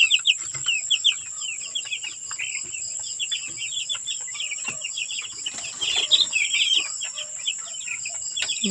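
Chickens cluck and chirp in a small flock, with steady insect buzzing in the background and occasional brief knocks, no one talking.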